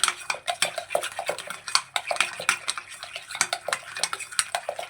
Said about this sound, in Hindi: चीनी डालकर अच्छी तरीके से मिक्स करेंगे।